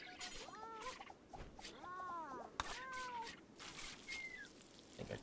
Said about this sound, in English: I think a cat just got into another fight.